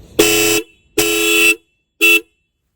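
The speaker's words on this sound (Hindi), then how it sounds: "आप इधर इंटरसेप्टर का हॉर्न का साउंड सुन सकते हैं," Three loud honks of an Interceptor motorcycle horn, the first two longer and the last one short, with silence between them.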